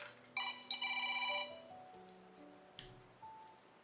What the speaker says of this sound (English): Sorry, loud phone.